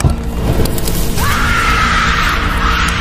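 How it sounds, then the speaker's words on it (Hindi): Dramatic story sound effect of a woman screaming as sunlight burns her body, a loud sustained shriek that rises and holds over a rumbling, clattering background layer. "जब सूरज की किरणें जेनी के शरीर पर पड़ने लगी तो उसकी चीखें पूरे घर में गूंजने लगी।"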